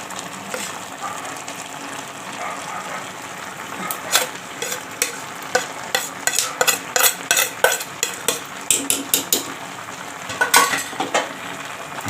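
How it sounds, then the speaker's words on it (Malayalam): Grated coconut being stirred into simmering aviyal vegetables in a pan, with a steady sizzle and a run of scraping spoon strokes against the vessel, irregular at first and then quickening into rhythmic scrapes. "നമുക്ക് നല്ലോണം ഇളക്കണം"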